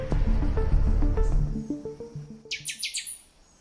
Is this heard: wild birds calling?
yes